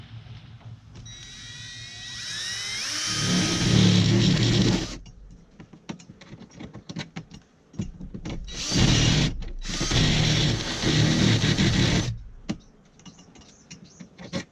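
A dull step bit drilling a hole while a propane tank is mounted on a camper van: two loud whirring bursts of the drill with a pause between them, and quieter clicks and handling noise in the gaps.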